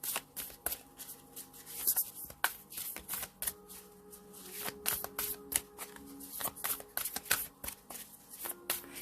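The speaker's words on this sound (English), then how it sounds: "Pull some helper cards, see what we got going on." Tarot cards being shuffled by hand at close range, a run of quick riffling flutters and soft slaps in an irregular rhythm, with no one talking.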